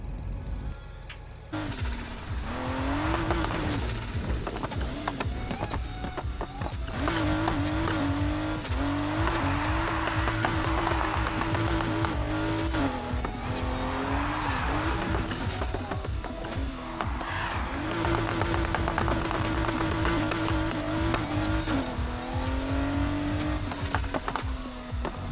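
A Porsche 911 Carrera RS 2.7 races with a steady, droning engine. It revs up and down through gear changes, and tires squeal and skid at intervals, with continuous, loud, close engine sound throughout.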